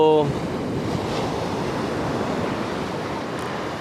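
Ocean waves wash steadily onto the beach at Aazhimala, Kerala, a continuous broad roar of surf with wind noise on the microphone, holding even throughout and heard alone without voices.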